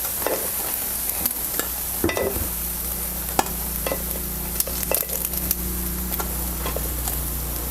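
Sabudana appe (tapioca pearl dumplings) frying in a little oil in an appe pan, a steady soft sizzle with scattered light ticks and clicks, close and continuous, no voices.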